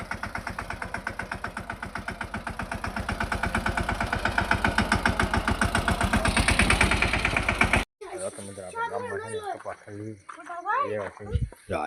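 A Yuvraj tractor engine chugging nearby in a cotton field, a steady rapid diesel knock that gradually grows louder for about eight seconds, then gives way to close talking over a low background.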